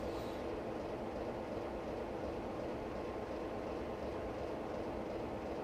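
A train at a small rural station in Train Simulator, a steady, low continuous rumble of rolling stock with faint rail noise, fairly quiet and unchanging throughout.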